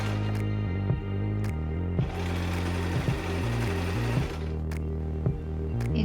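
A sewing machine stitches fabric from a refashioned men's shirt being made into a ruffle skirt, running in a steady close mechanical whir with brief pauses and speed changes throughout, alone without talk.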